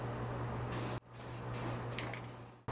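Spray paint hisses from an aerosol can onto Massey Ferguson T20 tractor wheels being refurbished. Close, continuous bursts are broken by one brief pause, over a low steady hum.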